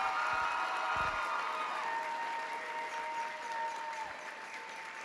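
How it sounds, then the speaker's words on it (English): An audience applauds at a JROTC national championship awards ceremony, steady sustained clapping from a large crowd that gradually tapers slightly, heard alone without talk. "Can we give them one more great big round of applause,"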